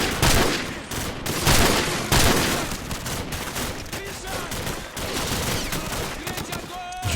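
Gunfire in Call of Duty 4: Modern Warfare, a dense fusillade of rifle and machine-gun shots with loud bursts near the start, continuing steadily throughout under game effects.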